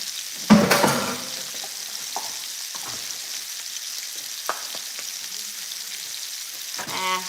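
Fresh garlic frying in a pan opens with a loud burst of sizzle as it hits the hot oil, then settles into a faint, steady crackle with a few light stirring clinks, close and without talk.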